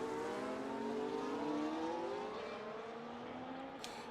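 An F1 25 video game race car on the Canada circuit accelerates hard, its engine tone climbing steadily through the revs in a smooth rising whine, fairly faint and alone.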